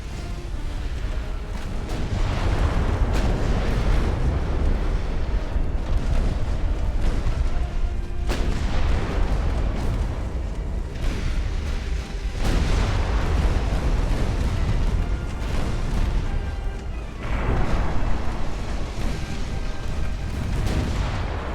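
Torpedo detonations and naval gunfire in Ultimate Admiral: Dreadnoughts, an 1890s warship game, a dense continuous roar of deep booming blasts with repeated heavy impacts rolling over each other for about twenty seconds.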